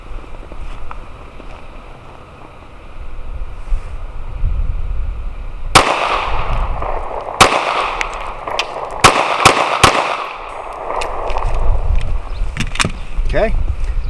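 Rapid shots from a Gen 3 Glock 19 pistol at about 7 yards, a pair then a quick burst of three, sharp loud cracks standing out over steady outdoor wind and background noise.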